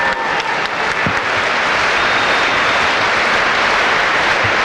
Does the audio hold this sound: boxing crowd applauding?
yes